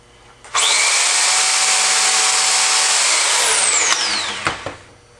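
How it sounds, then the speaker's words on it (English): A belt sander with polishing oil grinds against glass edges in one loud, continuous run of nearly five seconds, with a brief high squeal near the end before it cuts off. "I'm going to put a little polishing oil on the belt sander here"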